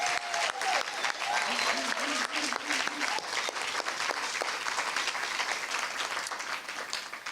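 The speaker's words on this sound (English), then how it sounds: "Everybody give them a round of applause." An audience at a press conference applauds steadily for a group of standing teacher ambassadors, a dense, sustained clatter of many hands that tapers slightly toward the end.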